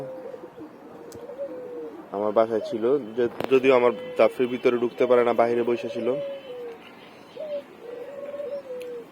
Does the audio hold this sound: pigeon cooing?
yes